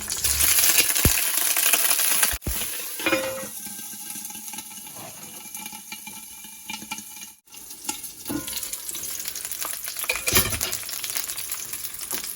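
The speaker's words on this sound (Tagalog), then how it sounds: "I-fry muna natin yung fish bowl." Fish balls frying in a stoneware pan for fish ball fried rice, a steady close sizzle with occasional clinks and stirring scrapes, no talk.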